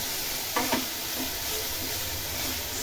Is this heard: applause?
no